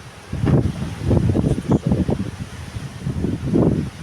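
Strong wind blows outdoors in a rose garden, buffeting the microphone in repeated loud low gusts and rumbles across the whole stretch, with no voices.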